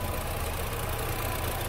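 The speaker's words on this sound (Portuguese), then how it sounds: "Está funcionando o motor redondinho." A Honda City engine idles smoothly and evenly, a steady low hum with no misses or stumbles, heard up close and alone.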